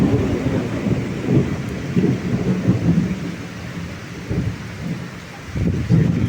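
A thunderstorm with rain, wind shaking trees, plays as a dense hiss of heavy rain with low rumbles of thunder rolling in and out, loud and continuous.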